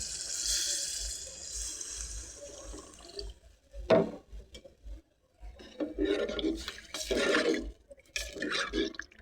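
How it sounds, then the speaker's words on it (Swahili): Water poured from a container into a cooking pot of tomatoes for a potato and noodle dish, with splashy pouring bursts and brief pauses, close and fairly quiet, no talking. "nachukua maji naweka"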